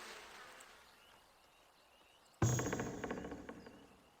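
Buzzing of bees from a colony in Farthest Frontier, a settlement-building game, swelling in abruptly partway through as a steady insect drone with soft fluttering pulses, fairly close and alone.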